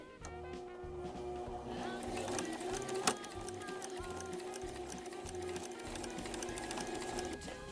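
A sewing machine runs steadily while stitching the side back pieces of a dirndl over horizontal pins, a fast even mechanical whir with a sharp click partway through, fairly quiet and close.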